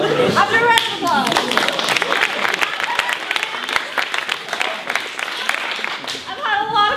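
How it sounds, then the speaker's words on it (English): An audience at a comedy stage show breaks into a round of applause, with clapping running throughout the stretch while voices talk over it at the start and end. "After a round of applause"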